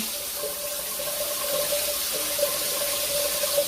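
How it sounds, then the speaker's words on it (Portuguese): A shower running, a steady broadband hiss of water, continuous and moderately loud, with a faint tonal hum underneath and no voices. "Vou abrir um pouco mais o chuveiro. O fluxo vai aumentar."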